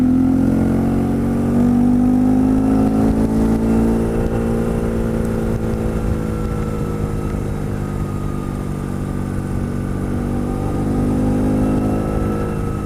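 A modified BMW R1200C motorcycle tuned to about 100 horsepower rumbles loudly and continuously while being ridden, its engine pitch rising and falling gently throughout.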